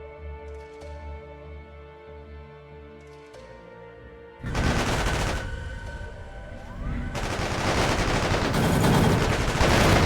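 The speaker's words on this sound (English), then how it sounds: "Interesting that they're using bolt weapons or like projectiles." Projectile weapons fire in a sci-fi real-time strategy battle, a dense, continuous barrage of rapid shots that bursts in loudly after a quieter musical stretch and keeps building, with layered crackling volleys and no talk.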